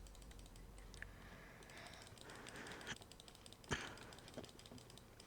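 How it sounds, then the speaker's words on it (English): Rapid, fast clicking of a computer mouse while playing a planet-smashing space sandbox game, a steady stream of small, close, quiet clicks with no talking. "I'm just clicking it so fast"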